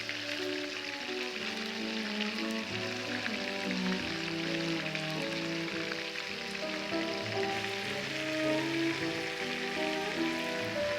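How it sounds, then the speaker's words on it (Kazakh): Turkish-style kebab skewers frying in a pan, giving a steady, even sizzle that holds unbroken throughout at moderate loudness, with no voices. "Жан жағынан аударып, барынша толық піскенше қуырып пісіретін боламыз."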